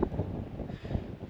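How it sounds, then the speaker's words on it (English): Steady, rough wind in a dust storm in Idaho buffets the microphone with a continuous low roar and no pauses. "we're out here in some very, very windy dust storm conditions"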